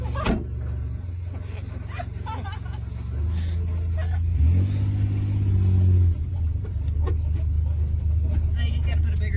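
A 1973 VW Beetle monster-style car driving across a back field, its engine droning steadily and rising in pitch midway as it revs, with people talking over the motor throughout.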